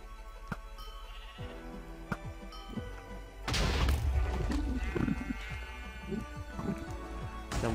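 Sheep bleat in a Minecraft SheepWars match among game sound effects, with a sharp crash or explosion burst midway followed by busy, layered clatter and bleats.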